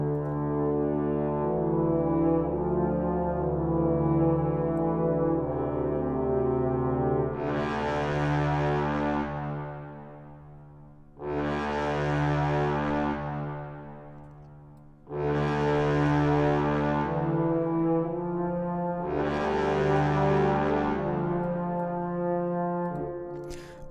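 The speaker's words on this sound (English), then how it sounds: "So let's check out the brass." Long held brass chords swell and fade in four broad waves, each note sustained without breaks, full and steady throughout.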